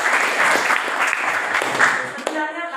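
A class of students claps together during a geography lesson in an Indonesian school: a dense, loud burst of applause that fades near the end as a voice begins speaking.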